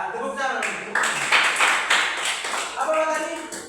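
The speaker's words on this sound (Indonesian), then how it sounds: "Tepuk tangan." Schoolchildren in a classroom clap their hands during an elementary science lesson, a brief burst of sharp claps rising over the chatter of young voices and speech.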